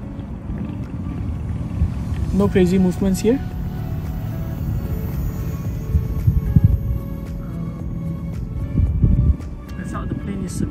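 An Eachine BF109 mini warbird RC airplane, a 400mm 2.4GHz four-channel model, flies at half throttle on its maiden flight. Its steady motor buzz and wind rumble run under continuous narration, with a short chirp near the start.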